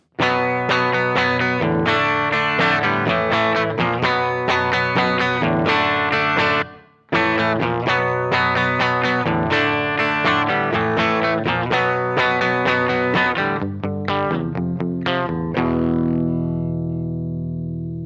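A clean electric guitar plays a steady strummed and picked passage with bright ringing chords, one brief pause midway, ending on a sustained fading chord.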